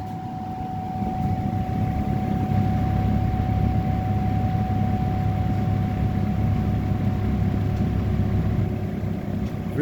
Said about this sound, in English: I always love that motor sound.